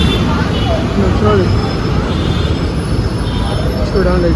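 A metro train passes near the Uppal skywalk in Hyderabad as a loud, continuous rumbling roar, with faint wheel squeals gliding through it from close by.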